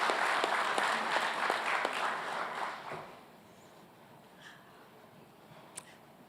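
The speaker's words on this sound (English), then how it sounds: "we'll give him another round of applause" Audience at a graduation convocation ceremony claps for an award recipient, a moderate burst of applause that fades out after about three seconds into quiet room tone with a couple of small isolated sounds.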